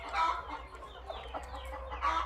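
Adler laying hens in a coop giving soft, continuous clucks and murmurs, close but fairly quiet over a low background hum.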